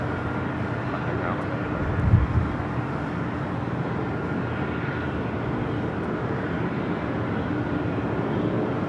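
An Airbus A350-900 jet takes off at a busy airport. A steady, broad engine roar holds throughout at a distance, and a voice talks over it.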